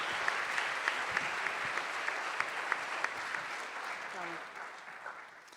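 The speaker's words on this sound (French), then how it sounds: "je pense qu'on peut applaudir tous les participants" A conference audience at an annual colloquium applauds the participants, sustained clapping from a large crowd with a few sharper individual claps, fading near the end as a voice begins to speak.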